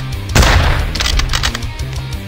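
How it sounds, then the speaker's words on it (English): A single loud sniper rifle shot booms in a survival video game set in the mountains, followed by a short rattle of lighter sounds as it fades. "maybe a few sniper rifle shots"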